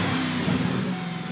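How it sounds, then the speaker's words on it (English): A Ford Mustang GT convertible engine revs close by in a short, steady, loud burst of throaty low rumble with no talking. "you guys hear how awesome this engine sounds"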